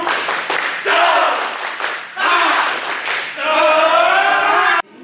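A crowd of students at an OSIS candidate debate at SMKN 5 Pangalengan runs through a patterned clapping cheer again, three loud rounds of rhythmic claps mixed with chanting voices, ending abruptly.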